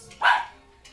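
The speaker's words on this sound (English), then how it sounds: "Really sorry about my dog going crazy in the kitchen." A dog gives a single sharp, close bark in a kitchen, brief and loud against a quiet room.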